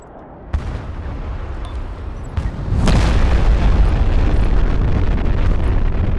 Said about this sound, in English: The classic Kaliningrad spawn nuke, oh no.